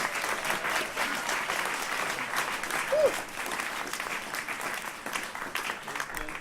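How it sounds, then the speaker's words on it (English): An audience in a hall applauds a young Encouragement Award winner at the 2014 Goolwa Poetry Cup, with steady, dense clapping that fills the stretch and swells briefly near the middle. "Everyone have applause."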